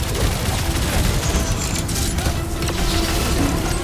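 Gunfire in the video game Marvel's Guardians of the Galaxy, a dense continuous barrage of shots and blasts amid loud battle noise and rumble, with no speech.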